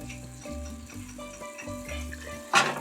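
Ground beef browning in a pot on the stove for a beef vegetable noodle soup: a soft, steady sizzle with faint rhythmic stirring and scraping, ending in a brief louder clatter.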